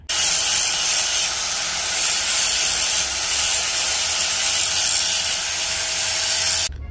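An angle grinder runs continuously against a handmade metal straight pipe mount to clean it, a loud, steady, close high-pitched grinding whine lasting several seconds before cutting off abruptly, with no speech.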